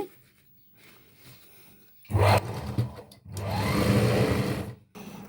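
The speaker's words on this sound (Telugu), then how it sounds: "మనం క్లాత్ని ఎలాస్టిక్ని కొంచెం లాగి పట్టుకుంటూ ఈ విధంగా మొత్తం చుట్టూ స్టిచ్ చేసేసుకుందామండి" A sewing machine runs stitches around elastic on a kids' two-layer lehenga in two bursts of steady whirring, close and loud, with a brief stop between them.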